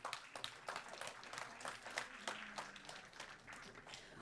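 An audience at a school board meeting gives a round of applause, a modest scattered clapping that stays fairly soft and uneven, with a faint murmur underneath.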